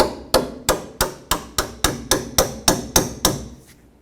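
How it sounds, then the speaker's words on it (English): A hammer taps a new front sway bar link onto a 1997-2001 Jeep Cherokee, giving about a dozen sharp metallic strikes in a steady quick rhythm, loud and close, with each one ringing briefly. "I'm just going to hammer tap it on."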